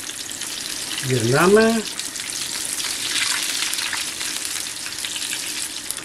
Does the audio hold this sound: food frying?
yes